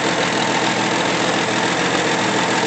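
A 1964 Pontiac Tempest inline-six engine idles running rich, a steady, continuous mechanical rumble with light knocking texture, close and even throughout with no talking.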